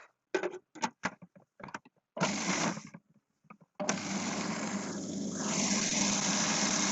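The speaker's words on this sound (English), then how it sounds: "And I'm going to whisk this up." A mixture seasoned with salt and pepper is whisked. A few light taps and clicks come first, then a steady close mechanical whir runs without a break to the end, with no speech.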